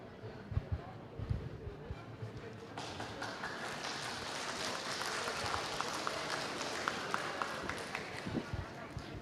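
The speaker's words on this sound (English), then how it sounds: "please give applause for Professor Chan." Audience applause at an academic conference after a presentation, a dense spread of clapping building from about three seconds and continuing steadily, with scattered louder claps and some murmuring underneath.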